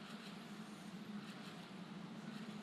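Formula 4 race cars at Monza brake into turn 1 during an Italian F4 Championship race, heard as a faint, steady, distant engine drone with no talk.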